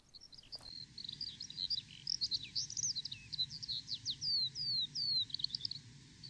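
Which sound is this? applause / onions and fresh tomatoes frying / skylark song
skylark song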